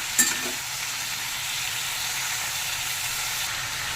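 Chopped vegetables for a Bengali pui shak and shrimp dish sizzle and fry steadily in a hot pan, a continuous close hiss with a brief clatter at the start.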